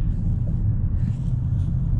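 A Mercedes A180 engine while driving, heard from inside the cabin with no radio on as a steady low rumble and road drone, even and continuous throughout.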